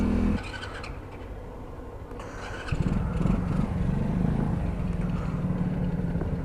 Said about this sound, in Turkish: gaz basmadan çalıştırmaya çalışıyorum karbüratörlü motoru CBF